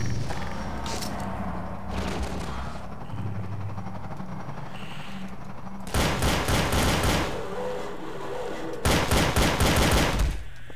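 Video game gunfire in Garry's Mod, Half-Life 2: Episode One: two loud bursts of rapid automatic fire, each lasting about a second or two, standing out over a steady background of game noise.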